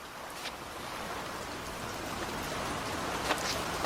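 Heavy downpour with riders out on the road, a steady broadband hiss of rain that stays constant and moderately loud throughout, with a few faint brief ticks near the end and no voices.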